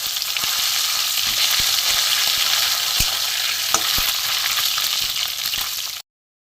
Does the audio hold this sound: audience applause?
no